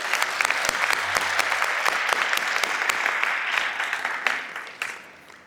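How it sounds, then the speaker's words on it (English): An audience at a luncheon claps hard for several seconds, a dense patter of hands that thins out and fades near the end. "Let's give them a round of applause."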